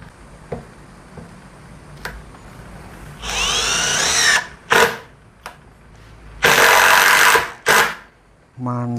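A Ryobi Kyocera BID10XR impact driver set to high mode drives into hardwood in two long, loud bursts of rapid hammering whir, with short clicks and taps between and a quiet voice underneath.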